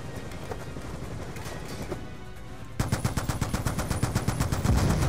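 Gunfire in Call of Duty: Black Ops 2, loud rapid bursts of automatic weapon shots, sparse at first then a dense rhythmic stream of cracks through the second half, with no talking.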